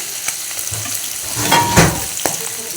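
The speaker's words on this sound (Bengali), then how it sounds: "এখানে দেখো কাঁকরোল ভাজা বসিয়ে দিয়েছি" Spiny gourd (kakrol) frying in a pan, a close, loud, continuous sizzle with crackling pops and no talk.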